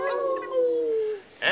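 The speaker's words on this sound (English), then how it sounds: "and the coyote you can hear," A coyote howling at night, a single drawn-out wavering call that slides downward and fades, followed by a sharp higher-pitched yelp. The call is close and clear.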